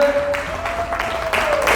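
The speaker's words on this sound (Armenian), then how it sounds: "Իսկ դուք կարող եք ծափեր տալ, տեսնեք ոնց է տրամադրությունը" Guests clapping at a family celebration for a father's 60th birthday, with a steady, moderately loud round of applause in a hall and a sustained tone running underneath.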